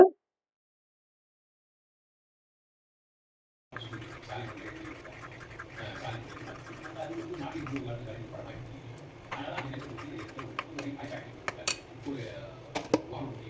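Idli batter is mixed with maida and salt in a bowl, giving soft scraping and light clinks of a spoon against the bowl, close and quiet under a person talking, after a few seconds of silence.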